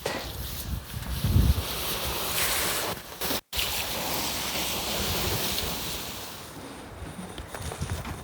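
Water is poured around the edges of a slightly concave biochar kiln with a hole in its base to quench the glowing charcoal outdoors, a steady broad rushing splash with a brief break midway.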